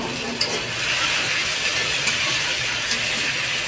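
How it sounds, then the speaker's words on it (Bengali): Rohu fish frying with onion in a pan in a small home kitchen, a steady close sizzle and hiss that holds evenly throughout with a few faint clinks. "দিয়ে ভালো করে ভেজে নেবো মাছটাকে।"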